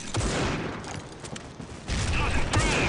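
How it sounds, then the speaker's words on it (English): Rapid automatic gunfire in the mobile shooter Critical Ops, dense loud bursts filling most of the clip with a short lull before a second volley. "You see there, they're free firing it."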